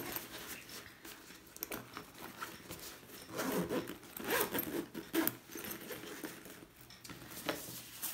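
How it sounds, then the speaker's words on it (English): Zipper on the L-shaped side pocket of a Manfrotto Small Advanced Camera Holster Case, a soft, scratchy run of zipping with small clicks and rustles of fabric, faint and close, without speech. "we have a pocket which zips round in a L shape"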